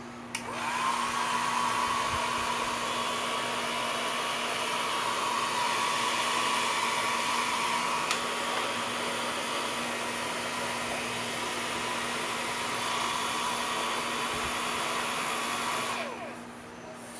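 A handheld hair dryer blowing on its low setting, a steady unbroken whoosh with a faint whine that runs at even loudness for the whole stretch before cutting off near the end, with no talking.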